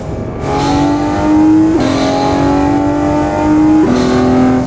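An Aston Martin Vantage V12 engine in a video game revs hard and holds a high, steady whine, climbing through two gear shifts, loud and close.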